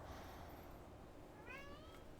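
A cat gives a single short meow, faint beneath steady background noise and game sound from the action game Control, with no speech.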